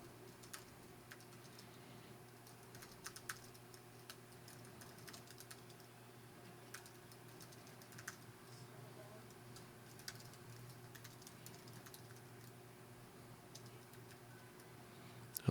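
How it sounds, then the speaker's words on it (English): Quiet, steady typing on a computer keyboard, a run of light key clicks with an irregular rhythm over a soft hum, heard close and alone. "let's say you want to type it in instead of copying and pasting"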